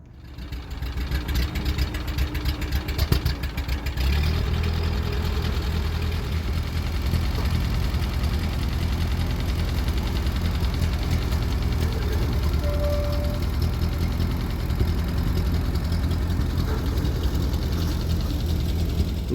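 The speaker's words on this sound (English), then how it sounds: "This little critter is a 1952 Ford 8N, the last year they made it." A 1952 Ford 8N tractor engine idles steadily at close range, a continuous low rumble with a slightly knocking, uneven beat that holds for the whole stretch with no talk.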